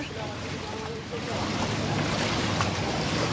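Floodwater sloshes and swishes around someone wading on the way to a temple, a continuous close rushing wash of water mixed with wind buffeting the microphone, growing slightly louder after the first second.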